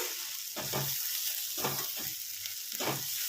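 Vegetables for a soupy pasta fry in a pan with a steady sizzle, while a spatula stirs them in three distinct scraping bursts at roughly even intervals.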